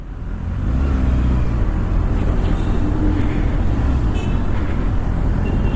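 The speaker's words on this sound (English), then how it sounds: "I'm not sure how well you can hear the bike." A 2024 Kawasaki ZX6R Ninja motorcycle ridden on the road, a continuous rushing engine and wind roar at steady speed, loud and close throughout.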